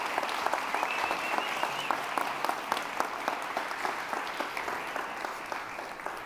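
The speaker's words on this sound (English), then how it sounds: "One more round of applause." Loud, sustained audience applause at a conference session on AI and UX research, dense clapping rolling steadily for several seconds without a break.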